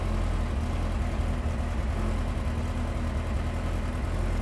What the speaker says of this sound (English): engine sounds quite sweet actually